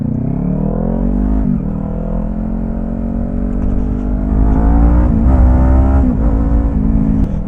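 A Kawasaki Ninja 400 motorcycle ridden through traffic, its engine note close and loud, rising and falling as the rider revs and shifts, with wind noise underneath.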